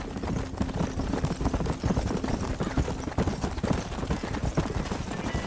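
Horse hooves clip-clopping at a steady trot in the video game Red Dead Redemption, a dense continuous run of close hoofbeats over a rough ground rumble, with no talking.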